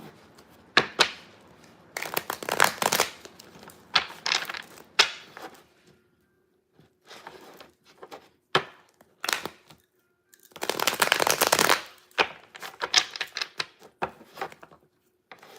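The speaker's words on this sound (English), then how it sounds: "One more shuffle." Rapid riffling bursts of cards being shuffled, several quick papery flurries separated by short pauses, close and fairly loud.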